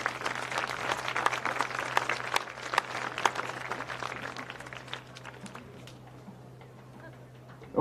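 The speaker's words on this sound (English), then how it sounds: "So let's please give these girls another great round of applause." A crowd at a high school varsity football game applauds with dense clapping that builds, then thins and fades toward the end, with a steady hum beneath it.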